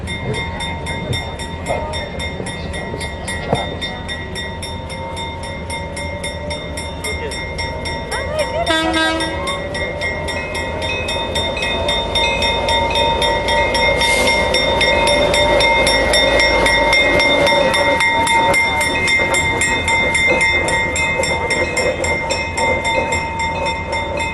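A U.S. Army 8537 45-ton diesel locomotive rolls up at a parade reviewing area, its engine rumbling louder as it nears, with a short horn toot and a bell ringing steadily over distant crowd noise.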